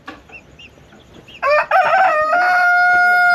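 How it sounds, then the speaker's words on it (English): A rooster crows loudly and close among chickens in a Mayan village in Xaya, Yucatan, after some soft clucking and background chatter, the long crow trailing off near the end. "Look at all the chickens."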